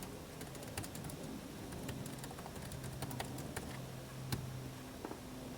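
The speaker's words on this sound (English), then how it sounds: "And I can continue typing." Typing on the keyboard of a Toshiba Chromebook 2 (CB35-B3340, 13.3-inch), giving a steady run of quick, light key clicks at close range over a faint background hiss, with no talking.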